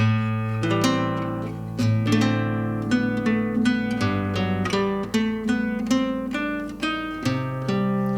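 A solo guitar plays a melodic line of plucked notes over sustained chords, with a steady, unhurried rhythm, clear and close.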